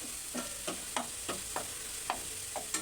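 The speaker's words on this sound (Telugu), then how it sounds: "ఇలా వేయించుకోవాలి ఇలా వేయించుకున్న తర్వాత" Potato and bottle gourd pieces fry in oil, and a utensil scrapes the pan in a steady rhythm, about eight evenly spaced stirs over a soft continuous sizzle, close and fairly quiet.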